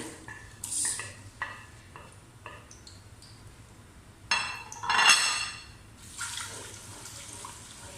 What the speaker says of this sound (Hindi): प्याजों को हम सुनहरी ब्राउन होने तक ऑयल में भून लेंगे।